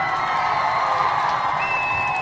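A live crowd cheers and applauds steadily for babies at a community gathering, a dense, loud wash of clapping and whoops with no pauses.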